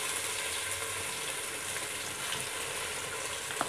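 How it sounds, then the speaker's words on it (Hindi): Ginger garlic paste frying in a pan, cooked for a fish biryani, gives a steady, close sizzle with a soft crackle throughout and no talk. "अब इसको अच्छी तरह हम भून लेते हैं ताकि अदरक लहसुन का कच्चापना दूर हो जाए।"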